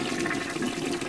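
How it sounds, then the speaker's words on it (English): A toilet flushes in a short burst of rushing, gurgling water, loud and close, with no voices. "Rooster Illusion, this flush is for you"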